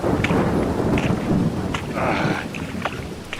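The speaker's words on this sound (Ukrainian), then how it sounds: "Та що ж це таке? Клятий дощ." Heavy rain pours steadily with a deep, rolling thunder rumble beneath it, loud and continuous throughout, during a stormy night scene on a road. No one speaks.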